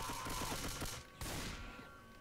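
Gunfire in the Roblox zombie game Left 2 Die: a dense, continuous burst of rapid shots, loud and close, with a brief break before another volley that gradually tails off.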